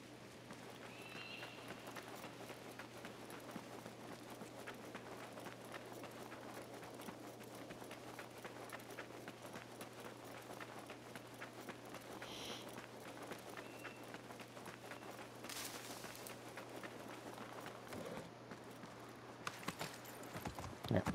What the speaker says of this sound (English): Back to my horse.